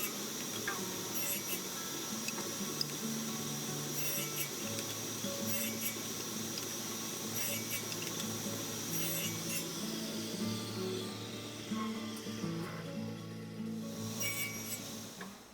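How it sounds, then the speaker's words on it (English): Tenons for sideboard runners cut on a tenoning jig and pared down with hand tools, a close, repeated rasping and rubbing of wood in short strokes with a faint background hum. "here I'm just using my tenoning jig to cut the tenons for the runners, and then paring them down"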